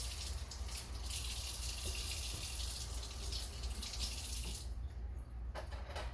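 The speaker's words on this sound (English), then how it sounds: "I'm going to wash off these few squash that I've got" A running kitchen tap gushes steadily while squash are washed under it, a continuous close water stream with small splashes near the end and no talk.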